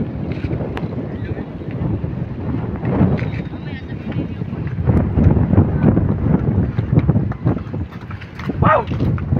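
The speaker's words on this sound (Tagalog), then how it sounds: "Magkusog ang hangin niya na guys, dito igbaw." Strong wind buffets the microphone throughout, a steady low roar with gusts, while people talk intermittently in the background.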